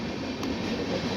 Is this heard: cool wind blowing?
no